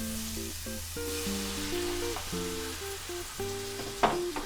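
Tomatoes drop into a hot, sizzling pan for an African guinea hen dish, a soft steady frying hiss under background music with a brief sharper sputter near the end.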